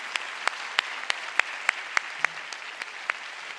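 Sparse, slow clapping at a worship gathering: about a dozen distinct hand claps at a steady rhythm over faint room noise, sounding like one or two people rather than a full crowd, with no talking.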